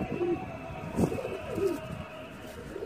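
A young baby pigeon, recently caught, gives soft, close, low coos in a short run of throaty calls over faint background noise.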